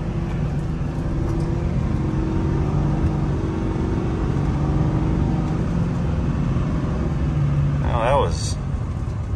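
Duramax 6.6 LBZ diesel pickup engine pulling hard under acceleration, a steady low rumble heard from inside the cab with a brief voice over it.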